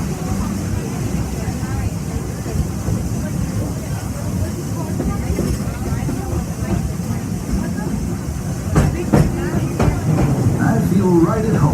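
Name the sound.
Walt Disney World Railroad train running on rails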